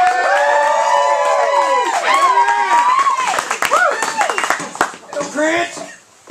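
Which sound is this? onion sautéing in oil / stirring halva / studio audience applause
studio audience applause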